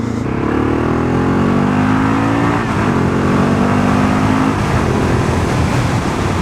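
A Honda motorcycle engine revs hard while being ridden, its loud, close, rising whine climbing through the gears in steady sweeps with no pause and no voices.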